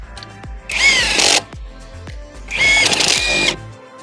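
A power tool spins truck wheel lug nuts tight in two bursts of whirring, each with a rising whine and rattle, separated by quiet clicks as the socket is moved between nuts.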